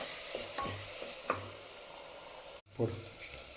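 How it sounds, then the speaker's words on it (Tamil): Ground onion paste sizzles and hisses in a pan for chicken curry, with a utensil stirring now and then and a short break near the end. The sound is moderate and close. "இப்போ அதையும் கூட சேர்த்து போட்டு வதக்கலாம்."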